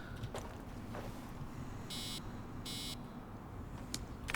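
A phone in Assassin's Creed Origins gives two short buzzing pulses about a second apart over a steady background drone, faint and fairly near.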